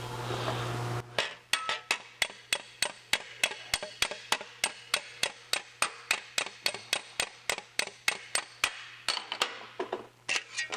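Rapid, evenly spaced hammer strikes cold forging a TIG weld on metal, about thirty sharp close metallic taps in a steady rhythm after a short stretch of background noise, with no talk.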